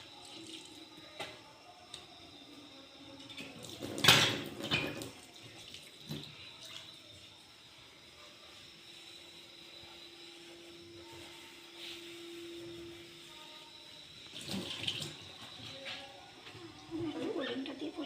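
Running tap water used for washing and cleaning in a home, with intermittent splashing bursts and a steady trickle under occasional background chatter and bird calls.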